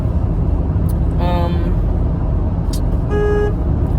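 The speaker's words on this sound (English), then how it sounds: "What you been honking for?" Car horns honk in traffic, one short toot followed by a second, steadier blast, under constant road rumble from inside a moving vehicle.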